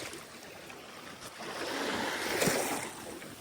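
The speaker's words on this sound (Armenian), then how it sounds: "Ալիքները" Sea waves washing onto a Greek shore at night on a rainy day, a steady broad wash that swells into a louder surge midway and then eases, with no talk.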